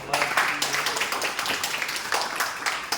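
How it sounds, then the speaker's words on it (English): Classroom clapping for a student during a workshop session, a brisk patter of many hands at close range lasting a few seconds with uneven swells, some faint voices mixed underneath. "clap for Bhumika"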